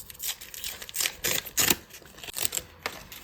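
Crisp crinkling and tearing of a small paper packet being opened, a series of sharp rustles and snaps close by, with no talking.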